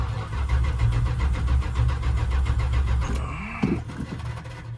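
A neglected old carbureted car with no working choke and a bad starter and battery cranks in a rapid, even churning rhythm for several seconds before the engine catches with a short rough burst, heard close and loud.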